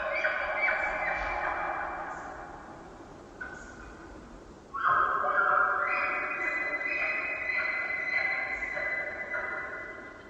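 Several elk cows call back in a wild valley, their high drawn-out tonal calls overlapping and echoing, rising louder partway through and sustained over a steady background wash.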